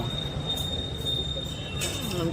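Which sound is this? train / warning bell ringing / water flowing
train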